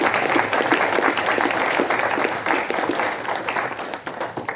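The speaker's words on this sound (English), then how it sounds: "That was brilliant. A round of applause." Audience applauding after a talk on human genetic modification with CRISPR-Cas9. Loud, dense clapping from a large crowd holds steady, then thins out slightly at the end.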